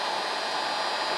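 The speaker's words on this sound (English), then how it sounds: "So just turn your heat gun on," A heat gun blows hot air for shrinking tubing on Snapper rear engine tractor starter wiring, a steady, close, broadband whoosh with no pauses.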